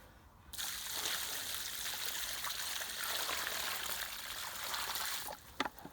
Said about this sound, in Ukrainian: Відро водички полив.